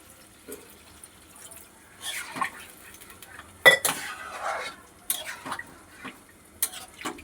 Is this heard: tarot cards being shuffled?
no